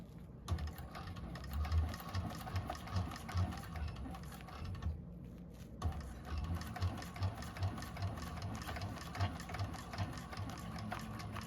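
A sewing machine stitching a handbag runs in a steady rapid mechanical patter at close range, pausing briefly partway through before resuming, with no talking over it.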